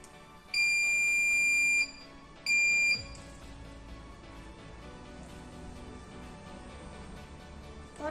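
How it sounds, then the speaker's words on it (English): A shrill electronic buzzer sounds twice, a long piercing blast then a shorter one, followed by quiet room hum. "you can press reset button to start the buzzer"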